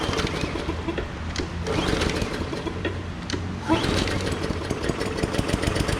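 A Briggs & Stratton push lawn mower engine starts and runs steadily, a loud, close, continuous mechanical drone with no talk over it.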